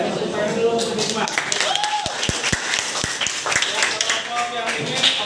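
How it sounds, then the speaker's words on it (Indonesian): A classroom breaks into applause for a student, steady overlapping clapping from many hands nearby, with a few sharp separate claps standing out and voices talking over it. "Tepuk tangan dulu untuk Hikmah."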